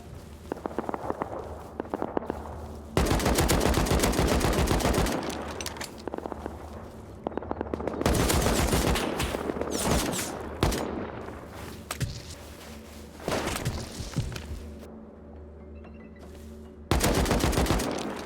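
Video game gunfire crackles in dense, loud bursts of rapid automatic shots separated by quieter stretches, with a last sharp volley near the end.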